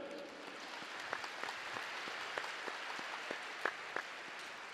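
Indoor volleyball arena crowd at a Taiwanese league match giving warm applause to the visiting team, a faint, steady patter of many hands from a distance with a few louder claps.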